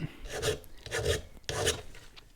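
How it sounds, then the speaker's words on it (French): A flat file rasping across a soft aluminium Malossi crankcase on a Peugeot 103 moped, three long, loud, close scraping strokes with short gaps between them. "c'est mettre un petit coup de lime plate. Donc ça se fait assez bien, hein. C'est de l'alu qui est assez tendre."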